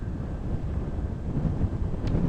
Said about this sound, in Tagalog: Tapos, may hangin pa.